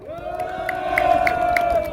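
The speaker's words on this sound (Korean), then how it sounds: "우리 이남규 박사님께 박수 한번 주세요" A crowd cheers at an outdoor political rally in front of Seoul Station, with mixed shouting and a loud, sustained tone like an amplified voice or whistle over the crowd noise.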